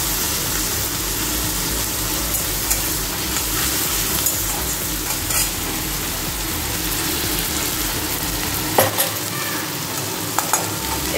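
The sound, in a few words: frying dried chillies, ginger and tomato in a pan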